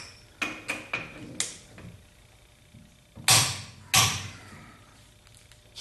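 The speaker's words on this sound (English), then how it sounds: "torque wrench" A torque wrench tightening lug nuts on new Torque Thrust II wheels of a 1976 Corvette restomod, giving a handful of sharp metallic clicks and then two louder, broader clacks, all close up with no talking.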